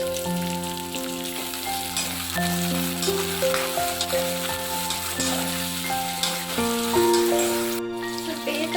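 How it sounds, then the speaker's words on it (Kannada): Onion, garlic and ginger fry in two teaspoons of oil for a fish curry masala, a steady close sizzle with stirring scrapes, while melodic background music plays alongside. "2 ಟೀ ಸ್ಪೂನ್ ಎಣ್ಣೆ, ಮತ್ತೆ ಆನಿಯನ್, ಗಾರ್ಲಿಕ್ ಮತ್ತು ಶುಂಠಿ ಹಾಕ್ಕೊಂಡಿದ್ದಾರೆ"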